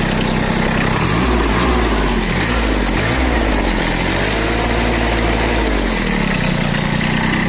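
A Kubota ZB1-15 mini tractor's three-cylinder diesel engine idles loudly and close, with a steady low throb and a faint rhythmic warble through the running, and no voices over it.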